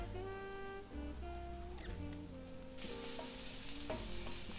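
Seasonings being stirred into food frying in a pan, a steady sizzle with scraping stir strokes, plus a louder burst of sizzling partway through, with background music tones running throughout.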